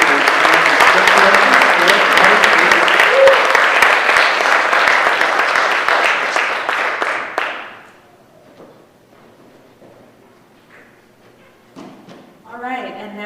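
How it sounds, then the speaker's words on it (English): An audience at a live pitch event breaks into loud, dense applause with many hands clapping close together. After about seven seconds it drops off to a quiet room with a few faint scattered noises. "let's have a big round of applause."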